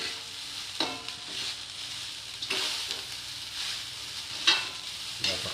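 Fried rice sizzling in a pan is stirred, a steady close hiss broken by several scraping sweeps of the utensil at irregular intervals; no one speaks.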